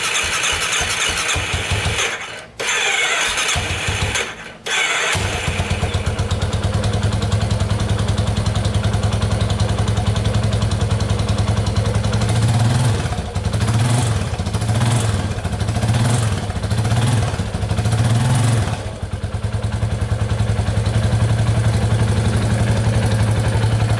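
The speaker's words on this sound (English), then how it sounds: "Sounds really smooth in the engine." A Yamaha Warrior 350cc quad engine idles with a steady, throbbing putter, briefly cutting out early on, then rising and falling with a few light revs.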